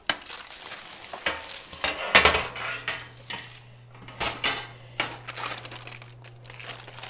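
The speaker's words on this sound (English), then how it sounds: "So now let's go ahead and take them off the baking sheet." Fresh-baked yeast rolls come off a metal baking sheet with scattered close clinks, scrapes and crinkling taps at an uneven rhythm under a faint steady hum.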